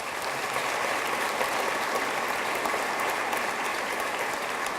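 An awards-ceremony audience claps in a sustained, even round of applause, a dense patter of many hands held at steady loudness throughout with no voices over it.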